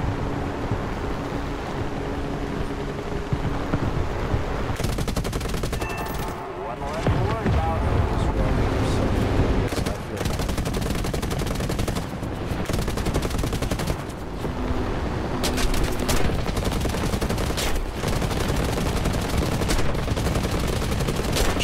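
Dense, continuous machine-gun fire from aircraft combat in War Thunder, loud and sustained in long bursts with brief breaks, over constant engine and wind noise while players talk.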